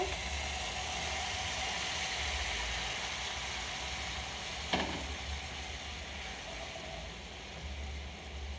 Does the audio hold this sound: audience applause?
no